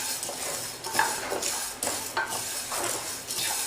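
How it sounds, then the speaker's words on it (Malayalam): Roasted gram added to browned urad dal in a dry pan and stirred, with repeated scraping, rattling strokes of a spoon through the dry lentils at a steady pace, fairly close and without talk. "ഇനി നമുക്കിതിലേക്ക് പൊട്ടുകടല ചേർത്ത് കൊടുക്കാം."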